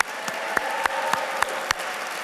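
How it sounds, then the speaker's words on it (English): Brief applause from diners at an evening awards gala, a steady patter of clapping with a few sharper claps standing out. "How about another round of applause?"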